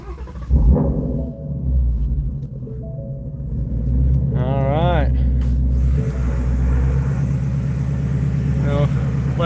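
A Ford Mustang GT350 idling with a steady, deep low rumble that holds throughout, with a brief higher tonal sound partway through.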